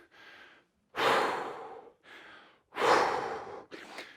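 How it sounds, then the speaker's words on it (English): Two big double exhalations during a bodyweight Tabata workout, each a short puff followed by a longer forceful breath out, close and breathy with pauses between. "2 big double breaths out"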